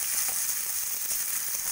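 Thinly sliced onions fry in hot oil with cumin and bay leaf, a steady, dense, close sizzle with crackling throughout and no talk.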